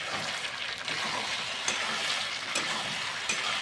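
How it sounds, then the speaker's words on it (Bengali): Mutton browning in a pan for kosha, a dense, loud, steady sizzle with occasional stirring strokes and no talking. "আর এদিকে মাংসটা প্রায় কষানো হয়ে এসছে।"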